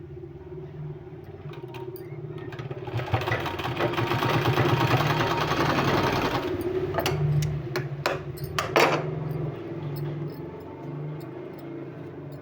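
A sewing machine stitches a rope-trim design onto a sleeve, its steady mechanical whir rising and running continuously mid-clip, with a few sharp clicks and knocks near the end and no speech.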